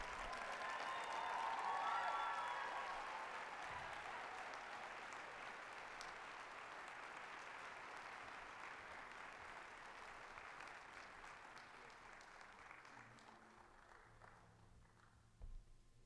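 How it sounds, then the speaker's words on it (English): Audience at a live award event breaking into sustained applause, a dense crowd clapping that peaks early then slowly fades over many seconds, heard from a distance in a large room. "Please give a huge round of applause to Mr. Bill Manns."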